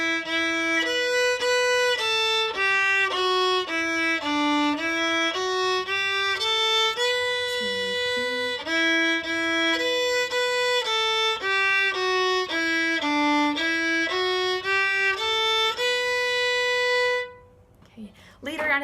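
Solo violin plays the melody of God Rest Ye Merry Gentlemen as a steady run of clear, bowed notes in a moderate rhythm, close and fairly loud, with no talking over it.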